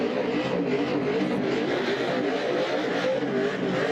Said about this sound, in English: Synchronized burnouts.